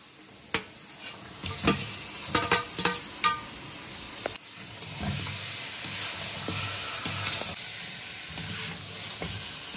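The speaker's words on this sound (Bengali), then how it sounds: "এবারে মশলার সাথে চিকেনটা কষবো, কিন্তু খুব আলতোভাবে কষতে হবে।" Fried chicken being stirred into spiced masala in a pan gives a steady sizzle and hiss, broken early by a run of sharp spatula scrapes and clinks against the pan.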